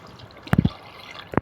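Water poured from a glass into a cooking pot for chicken dum biryani, a few quick splashes and drips close by, quiet between bursts.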